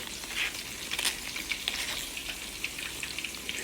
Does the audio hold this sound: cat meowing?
no